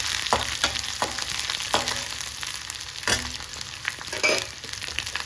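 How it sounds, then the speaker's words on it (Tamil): Ingredients for rasam sautéing in hot oil in a pan, a continuous close sizzle and crackle broken by several sharp scraping stirs, with no talking. "எண்ணெயில் போட்டு அப்படியே எண்ணெயில் வதக்கி விடுங்க"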